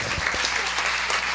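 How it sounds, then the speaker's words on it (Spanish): Steady applause from a crowd at a history forum in Tabasco, Mexico, dense and continuous clapping throughout the short moment. "Un aplauso, por favor."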